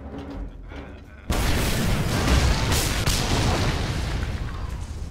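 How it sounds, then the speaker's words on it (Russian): After a brief quieter moment with voices, a dense barrage of booming video game fireworks and crackling pops erupts and continues loudly, like a rapid fireworks display, in Mad Max. "Их, фейерверки."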